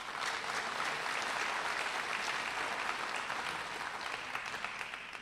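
An audience at a spring agricultural program banquet applauds gold award participants: dense, steady clapping from a full room, loud and continuous throughout, with no one speaking over it.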